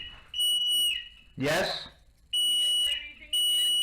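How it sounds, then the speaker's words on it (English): A building fire alarm blares in repeated high electronic tones, broken by a pause where a person speaks, then resuming loud and close. "Someone pulled the alarm"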